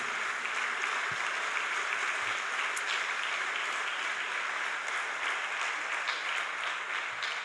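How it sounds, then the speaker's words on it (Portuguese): Continuous applause from a church congregation fills the space, a dense steady clapping that holds at an even level throughout with no speech. "Aplauda Jesus pela vontade de Deus na nossa vida."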